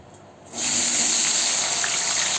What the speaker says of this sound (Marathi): आता त्या तेलात आपण बटाटे टाकूया